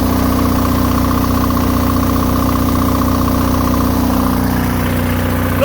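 Onan DJA/DJB/DJC-series generator engine running under electrical load, a loud steady drone with a constant hum and an even mechanical throb that holds without bogging or change throughout, recorded up close.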